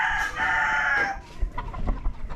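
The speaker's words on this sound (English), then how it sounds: "one of my missions was to escape the rooster." A rooster in a Philippine neighborhood crows loudly and close for about a second with a strained, drawn-out call, followed by scattered outdoor noise and bumps.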